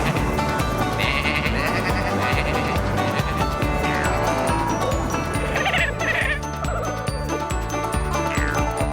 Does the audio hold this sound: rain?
no